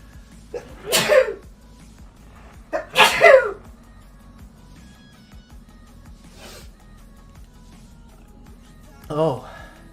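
Sneezes in a quiet room during a crafting livestream: two loud bursts close together early on, then a third, smaller sneeze near the end, over a faint low hum.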